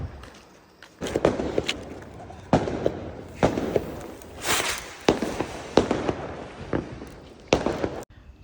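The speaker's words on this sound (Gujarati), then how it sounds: "તો ફટાકડા ફોડવાનું તો ચાલ્યા રાખવાનું છે" Diwali firecrackers burst one after another outdoors, a string of sharp, loud cracks and pops at irregular intervals, some doubled, with crackling tails between them and no talk.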